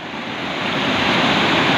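Floodwater rushing strongly down a village stream, roughly knee-deep and flowing from the hills toward a dam, making a loud, steady roar of churning water close by.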